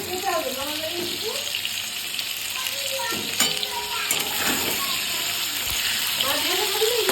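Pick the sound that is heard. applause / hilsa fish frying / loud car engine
hilsa fish frying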